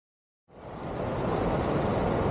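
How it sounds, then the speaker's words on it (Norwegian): Rushing outdoor waterfall on a river with salmon, beginning after a brief silence and swelling into a loud, steady, broadband roar that holds to the end. "nå er jeg på plass ved det som jeg kaller den store fossen"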